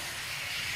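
Oil sizzles and hisses steadily on a dosa frying in a hot pan, with an unbroken bright crackle and no voices.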